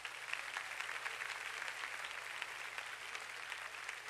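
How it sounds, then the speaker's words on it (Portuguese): Applause fills a church, a steady, even wash of many hands clapping, moderately distant and unbroken, with a low hum beneath it. "Pode aplaudir Jesus."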